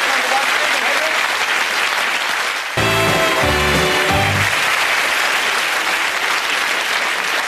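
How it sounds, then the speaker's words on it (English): Studio audience applause on a snooker-themed game show, steady clapping throughout the clip with a brief dip partway, while a host speaks over the middle section with low voiced tones. "give her a nice big clap"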